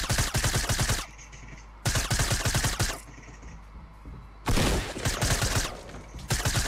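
Rapid automatic gunfire from the video game Fortnite comes in dense, loud bursts separated by short pauses, each burst a fast rattle of close shots.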